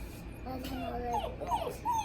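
A new puppy whimpers and yips in a series of thin, high cries on a farm, with soft background noise and human voices nearby.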